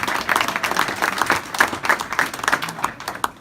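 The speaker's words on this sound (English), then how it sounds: "So big round of applause for the names I'm about to call." Applause at a Philadelphia 15th District police officers awards dinner as honorees are named: a room of hands clapping steadily and fairly close, with a few louder individual claps standing out through the whole stretch.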